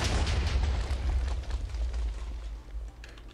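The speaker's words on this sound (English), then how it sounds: "launch it at your friend's base, and then you'll fly forward and kaboom." Minecraft missile explosion against a base wall, a loud, deep booming blast with rumbling debris that fades gradually over a few seconds.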